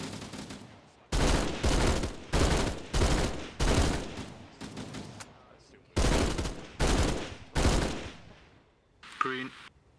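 Loud bursts of automatic gunfire from a military combat operation, fired as reconnaissance by fire, come in repeated sustained volleys of about a second each with brief gaps, close and dominant; a short radio-like voice crackle follows near the end.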